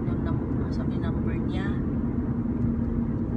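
A car engine runs steadily throughout, a dense continuous low rumble with muffled talking faintly audible over it.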